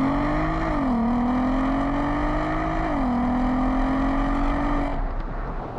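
A 2008 Volkswagen Golf R32 with its naturally aspirated engine revs loud and close, holding a steady droning note that dips and climbs twice before easing off at the end.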